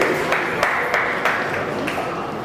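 Audience clapping for a speaker arriving at the closing ceremony of a moral education camp, a loud, dense and continuous round of applause with a few sharper claps standing out at regular moments.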